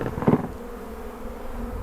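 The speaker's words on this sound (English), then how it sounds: "You see a lot of bees here" Many bees buzz around an open beehive as the lid comes off, forming a steady, close, dense hum with a brief louder swell near the start.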